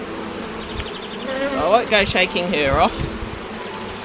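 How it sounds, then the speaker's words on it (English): Honey bees buzz steadily around an opened beehive during a hive check, a close, continuous droning hum with someone talking over it. "The bees are getting pretty aggro at me"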